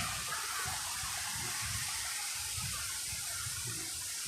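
Natural spring in Liliw, Laguna, with water flowing and rushing in a constant broadband wash, close and loud throughout, a faint low murmur of voices beneath.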